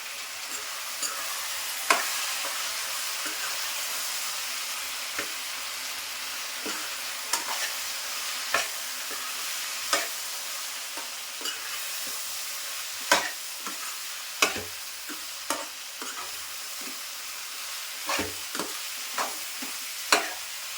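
A spoon stirs spice paste into sambar in a hot pan, with a continuous sizzle and frying hiss punctuated by repeated sharp scraping clinks of the utensil against the pan, close and unaccompanied by speech.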